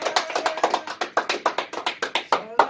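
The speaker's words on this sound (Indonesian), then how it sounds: "Tepuk tangan dulu." Brisk hand clapping from a small group, a steady run of sharp, close claps lasting a few seconds during a Batak talk show in Indonesia.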